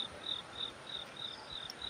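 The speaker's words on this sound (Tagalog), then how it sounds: "Ang ganda ng background ng sound natin. Naririnig nyo ba yan? Kuliglig." Crickets chirp outdoors at a quiet spot near a parking area and a stream, a steady run of short, evenly spaced pulses that sound faint and distant over soft background hiss.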